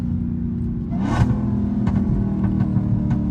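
Dodge Hellcat engine rumbling steadily while driving, with a few faint exhaust pops and crackles breaking through the low drone, close and continuous throughout.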